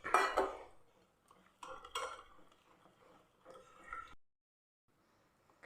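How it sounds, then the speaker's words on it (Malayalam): Coconut and rice flour batter is stirred in a bowl with a metal spoon, giving a few separate bursts of scraping and clinking against the bowl, with quiet pauses between them. "ഇതാ ഞാനിവിടെ ഒട്ടും കട്ടകളില്ലാതെ നമ്മൾ കലക്കി എടുത്തിട്ടുണ്ട്"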